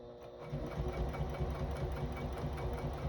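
A home sewing machine stitches fabric for a makeup bag, running in a fast continuous mechanical whir with rapid needle clatter, close and steady throughout.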